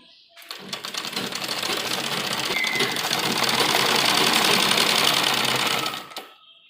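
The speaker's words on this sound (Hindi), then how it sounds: "हमें यहाँ पर एक कच्ची सिलाई लगाएंगे। तो बड़ी बखिया हमें करनी है" An electric sewing machine running a long basting stitch along a fabric sleeve, a loud, steady, rapid mechanical whirring that starts, runs continuously for about five seconds, then stops.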